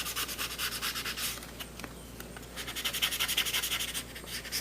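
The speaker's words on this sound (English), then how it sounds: "I'm going to take some medium sandpaper. I'm going to break the paint off of the surface where I'm going to be putting the CA glue." Medium sandpaper rubs paint off the surface of an FU Corsair model airplane, close rhythmic scratchy strokes that continue steadily throughout.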